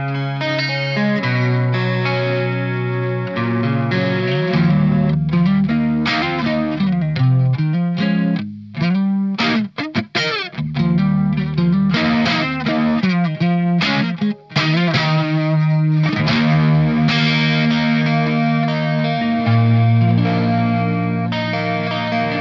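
An electric guitar plays through a Marshall 1959HW Super Lead 100W tube amp, giving a crunchy, overdriven tone. Chords ring and sustain with brief choppy stabs in the middle, loud and close, with no talking.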